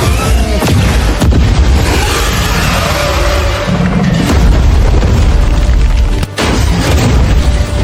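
Weapons fire and explosions crash through a battle scene in a sci-fi fantasy drama, a dense, loud stretch of continuous booming and rumbling that cuts out briefly for a moment near the end.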